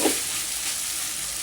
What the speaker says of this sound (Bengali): হালকা কষানো হয়ে গেছে, একটু ভাজা ভাজা করছি।